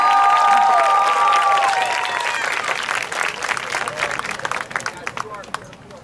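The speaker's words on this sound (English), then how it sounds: "How about another round of applause for our lone marcher out there?" A crowd at a high school marching band summer showcase applauds a lone marcher, loud clapping and cheers under a voice, with a sustained horn note early on, the clapping thinning toward the end.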